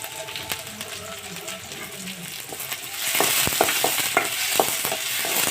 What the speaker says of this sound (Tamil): அடுப்பில் வானலியை வச்சு எண்ணெயை ஊற்றி கடுகு போட்டு வெங்காயம் அரிஞ்சு வச்சுருக்கேன் வெங்காயம் போட்டு வதக்கிக்கணுங்க